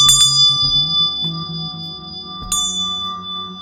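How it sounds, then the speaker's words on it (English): A bell rings for a sound clearing, its bright dings sounding close and clear with a long ringing overtone that hangs between strikes, and a final ding near the end. "Oh, that was a nice little ding at the end."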